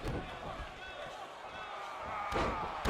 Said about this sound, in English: Slamming that man's head into the ground.